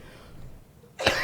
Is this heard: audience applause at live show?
no